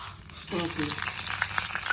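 Hot oil sizzles and crackles as mustard seeds hit the pan for tempering, growing louder after a moment, with a voice speaking briefly near the start.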